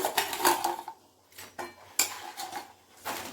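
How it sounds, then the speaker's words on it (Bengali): Lentil fritters for rasbara are dropped into a pot of sugar syrup, producing a quick series of close metallic clanks and clinks of a spoon against the pot. "এখন এর মধ্যে আমি সব বড়াগুলো দিয়ে দিব।"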